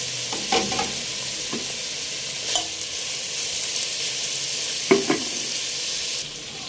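Fried chicken cooking in butter and oil in a pot, a continuous close sizzle broken by a few sharp scrapes and clinks of a stirring utensil, no talk.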